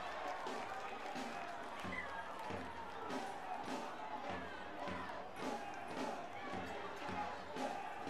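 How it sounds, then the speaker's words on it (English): A soccer stadium crowd roars in a sustained, rising swell after a foul during a Chattanooga FC versus Michigan Stars match, distant but dense, with a commentator's voice running over it. "the crowd erupts as the whistle will sound"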